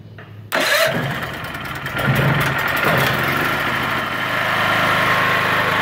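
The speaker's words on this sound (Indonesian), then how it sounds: "Saya akan nyalakan gensetnya terlebih dahulu." A generator engine used to power a MIG 160 welder cranks and catches with a sharp burst, then settles into a steady, moderately loud idle hum.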